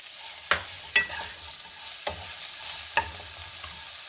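A spoon stirs fried green chillies with turmeric and lemon in a pan, making several sharp scraping strokes at irregular intervals over a faint background sizzle.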